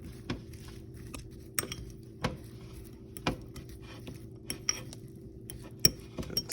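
Beans tossed with Italian seasoning, olive oil and salt in a bowl for a quick microwave snack, giving quiet, irregular clinks and taps of a utensil against the bowl, with soft patter between them.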